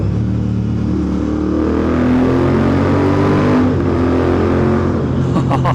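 Royal Enfield Interceptor 650 motorcycle engine revving inside a tunnel, a loud, steady, echoing drone that swells slightly midway and holds close throughout.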